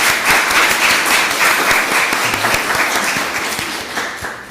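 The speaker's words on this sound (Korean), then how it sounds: "뜨거운 박수로 환영하겠습니다" A church congregation applauds warmly during a Sunday service, dense sustained clapping from many hands that fades gradually toward the end.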